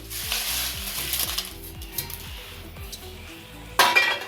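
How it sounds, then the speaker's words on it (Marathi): Bay leaves dry-roasting in a pan over low heat for a homemade masala without onion or garlic, with repeated close metallic scrapes and clinks of stirring over a light sizzle, then a sharper clatter at the end. "तमालपत्र आपल्याला छान भाजून घ्यायचंय."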